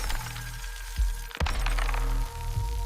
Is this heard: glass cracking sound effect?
yes